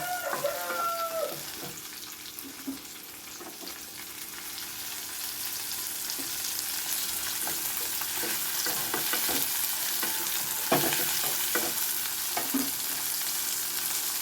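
Green chillies fry in a pan of hot oil for peanut chutney, giving a steady close sizzle with scattered sharp pops and crackles throughout, and no one speaking.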